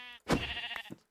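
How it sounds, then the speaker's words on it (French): A sheep in a video game lets out a single loud, wavering bleat, close and clear, ending with a short trailing note. "une colonie de moutons?"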